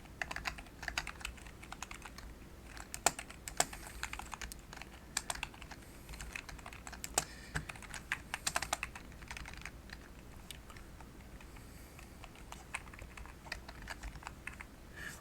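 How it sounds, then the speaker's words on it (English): Code is typed quickly on a computer keyboard in quick bursts of close clicking keystrokes with scattered louder key presses, fairly quiet and with no voices. "But I'm just going to type it out real quick."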